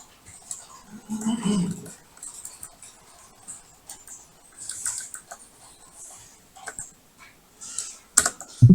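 Key presses on a computer keyboard during a Python coding session, with scattered light clicks and taps spread across the stretch, a louder cluster near the end and a murmur of speech early on.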